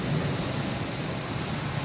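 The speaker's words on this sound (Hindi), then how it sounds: "क्या बिजली गरज रही है, देख लो" Thunder rumbles under heavy rain during a storm, a dense, loud, unbroken roar of downpour with a deep rolling undertone.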